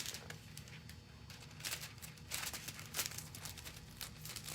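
Thin metallic foil sheet crinkles and rustles in quick, irregular bursts close by, with soft crackling scrunches and no talking.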